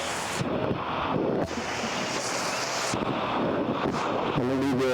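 Ocean waves on a beach on the Karnataka coast between Gokarna and Murudeshwar, a loud continuous roar of surf heavily mixed with wind buffeting the microphone.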